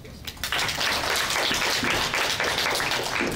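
An audience at a student Toastmasters evaluation session breaks into applause, loud dense clapping that starts suddenly and holds steady to the end.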